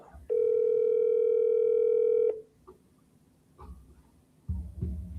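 An outgoing telephone call produces a steady tone of about two seconds, followed by quiet line noise and faint voices toward the end.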